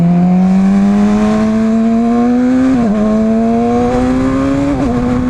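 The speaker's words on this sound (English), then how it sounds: "There's a car coming." Car engine running close by, its pitch climbing steadily as it revs up, with two short dips like gear shifts partway through; loud and steady throughout with no talking.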